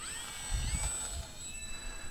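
An E-flite UMX RC plane's small electric motor spins up for takeoff with a thin, high whine that climbs in pitch, along with a few low bumps and faint handling noise nearby.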